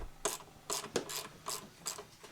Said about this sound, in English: I'm going to loosen these bolts up